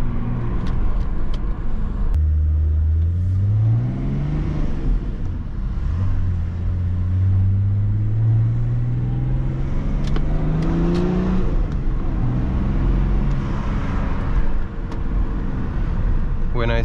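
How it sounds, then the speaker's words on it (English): Remapped BMW E34 525 TDS Touring diesel revving through gear changes with rev matching, heard as loud engine pitch sweeping up, dropping and climbing again in repeated rises inside the cabin, without anyone talking. "See now, rev matching control. Nice, beautiful. Second rev match. Really cool for rev match."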